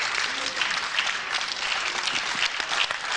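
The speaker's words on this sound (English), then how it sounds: "that very much deserved applause there from 2 great wrestlers" An audience applauds after a wrestling bout between Clive Myers and Steve Grey ends in a draw, dense continuous clapping that holds steady throughout.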